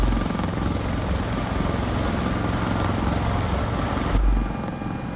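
Sikorsky S-76 helicopter in the CowanSim flight game, its rotor and engine giving a loud, steady, close drone that runs alone throughout and drops abruptly near the end.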